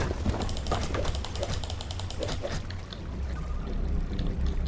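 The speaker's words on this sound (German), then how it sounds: "Wasser strömt aus der Höhle." Water streams out of a cave in the video game Creativerse, a continuous pouring rush with light clicking and tapping over it and no speech.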